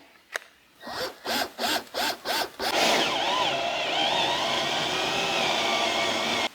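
A power drill with a bit bores a hole in a plastic reservoir under the hood of a BMW E30, giving a few short pulsing bursts and then a continuous grinding whir as it cuts, close up.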